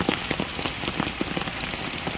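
Heavy monsoon rain falls steadily, a dense patter of drops hitting surfaces nearby at a moderate level, with no voices over it.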